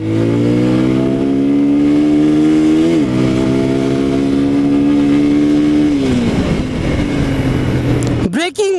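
A Dominator 250 motorcycle engine idling loud and close, then revved in smooth rising and falling steps, ending with a sharp throttle blip.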